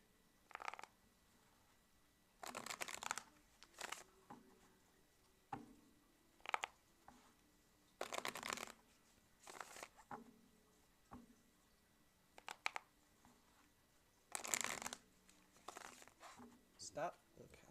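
Tarot cards shuffle in short, soft, papery bursts of riffling and tapping, spaced irregularly with quiet gaps, close and faint.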